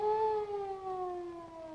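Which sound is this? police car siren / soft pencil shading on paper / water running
police car siren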